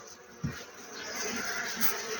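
A dense, steady drone of honey bees swirls around a beekeeper at an open hive in spring, loud and close, with one soft knock near the start.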